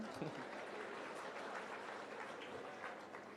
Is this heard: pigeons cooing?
no